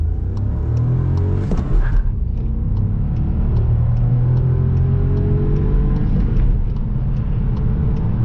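A Seat Arona FR 1.0 TSI with a manual gearbox cruises at high speed in sixth gear, its engine droning steadily under loud road and wind rumble heard from inside the cabin.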